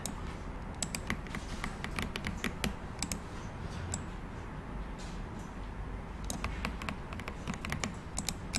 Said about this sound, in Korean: 키보드에서 방향키 이용해서 움직이시면 세밀하게 조금씩 움직이실 수 있습니다